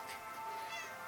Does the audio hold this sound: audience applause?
no